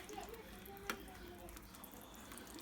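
Sour cream is stirred into a pan of ground beef stroganoff, giving a steady soft sizzle with gentle scraping and one brief sharp clink.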